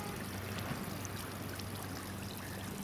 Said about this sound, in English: Water slide. See, water slide. Like a fountain, no?